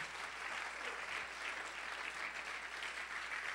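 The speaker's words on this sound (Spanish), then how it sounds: "Den un aplauso al, Señor porque Dios te salvó." Steady, dense applause from a church congregation fills the space evenly, loud and unbroken, with no voices rising above it.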